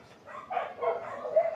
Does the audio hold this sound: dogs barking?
yes